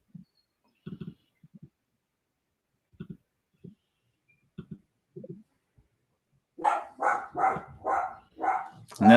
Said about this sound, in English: I'll mute my mic so you don't hear the dogs